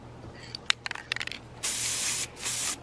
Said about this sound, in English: spray it with this.